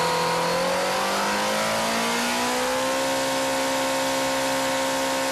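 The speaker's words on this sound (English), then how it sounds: "The final step in the engine assembly plant is to run the new motor," A new MV Agusta engine revs hard on a factory test bench, climbing steadily in pitch and holding a loud, strained whine as it is run at high speed.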